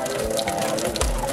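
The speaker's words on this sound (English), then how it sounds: "I bring the beans to boil, and I'm straining off the first set of water" Water from boiled beans pours out steadily as it is strained off, a continuous close gushing splash with no pauses for the whole short moment.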